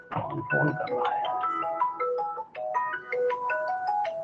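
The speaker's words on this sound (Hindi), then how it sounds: "फोन कर रहा है" Mobile phone ringtone for an incoming call, a bright melodic tune of repeating electronic notes playing continuously and loudly nearby, with no talk over it.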